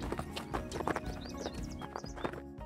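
Horse hooves clip-clop steadily in an even rhythm as a forward, energetic mare is ridden on a circle during a flexion training session, loud and close with faint background sounds.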